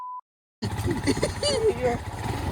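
A group of around 10 to 15 motorbikes on a mountain road trip between Ooty and Kinnakorai, engines rumbling close by after a short tone and a brief silence, with people talking over the engine noise.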